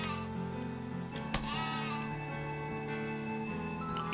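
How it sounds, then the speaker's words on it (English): A goat bleats in Epic Battle Fantasy 5, a single wavering bleat over steady background game music, moderately close and clear. "Hello, goat."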